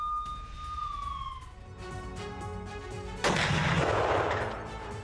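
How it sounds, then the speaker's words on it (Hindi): Missile-attack footage from the Russia–Ukraine war, from a strike on the oil refinery in Kremenchuk: a rising siren wail fades under distant rumbling, then a loud, broad explosive roar bursts in and keeps going. "मिसाइल अटैक में यूक्रेन की सबसे बड़ी ऑयल रिफाइनरी तबाह हो गई है।"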